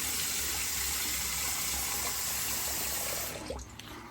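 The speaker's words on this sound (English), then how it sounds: "I'm going to rinse this off and we'll get into the post shave." Running water rinses a razor at a bathroom sink during a wet shave, a steady close gush that stops abruptly near the end, leaving a few faint drips.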